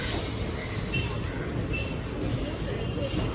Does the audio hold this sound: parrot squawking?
no